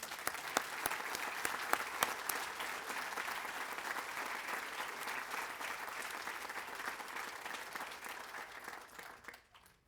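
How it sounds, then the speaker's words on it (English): Sustained applause from a crowd honoring veterans' family members at a Veterans Day commemoration, steady and even throughout before tapering off at the very end. "let's give a round of applause to the family members of veterans as well"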